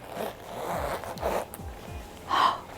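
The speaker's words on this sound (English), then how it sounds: "Love a good zipper." A zipper runs closed on a quilted luxe cash envelope wallet, several quick close zips building to a louder, brighter final pull at the end, heard up close with no talking.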